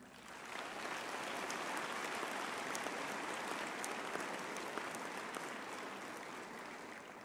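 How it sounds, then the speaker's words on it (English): A graduation ceremony audience of the Faculty of Natural and Agricultural Sciences applauds in a hall, a steady, dense wash of many hands clapping that holds evenly throughout, faint and distant, with no voices over it. "I would really like us to all also give them a hand of applause."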